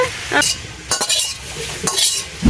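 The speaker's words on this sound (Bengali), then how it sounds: "মাছটা ভাজা হয়ে গেছে এবার আমি তুলে নিচ্ছি" Chingri (prawns) sizzling in a pan in a village kitchen, with a few bursts of frying hiss and some clinks and scraping of a utensil against the pan.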